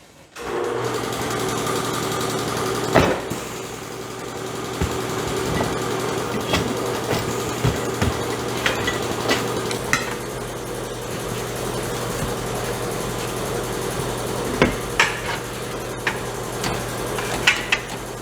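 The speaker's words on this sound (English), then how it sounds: "This changer struggles with this type of wheel" A tire changer works a trailer tire and wheel, giving a steady mechanical hum with a low motor drone throughout, broken by scattered clicks and clunks, close and continuous.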